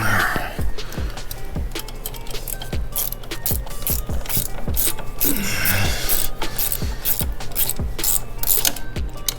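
A hand ratchet tightens sway link bolts on a Can-Am Ryker during a DIY sway bar install: rapid runs of close, sharp clicking strokes come in repeated bursts, loud and near, with no talk over them.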